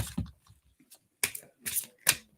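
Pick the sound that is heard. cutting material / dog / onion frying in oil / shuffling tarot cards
shuffling tarot cards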